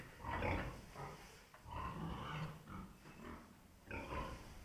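Low, rough grunts from farm pigs near a homemade hopper feeder come in several bursts, fairly close, with snuffling and some farmyard noise between them.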